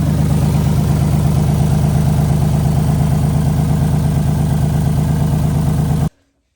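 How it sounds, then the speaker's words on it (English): A Lexus engine fitted with new cheap headers idles loudly and close with a steady, lumpy pulsing exhaust throb and slight uneven pops, then cuts off abruptly near the end. "It sounds like it's backfiring a little bit."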